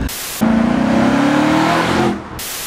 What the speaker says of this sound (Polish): niesamowite są te e, strzały z wydechu, które można tutaj usłyszeć